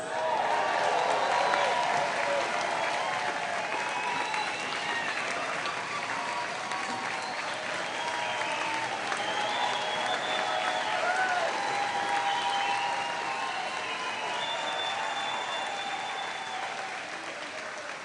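A large rally crowd applauds and cheers steadily for many seconds, a dense wash of clapping with whoops and shouts that slowly tapers toward the end.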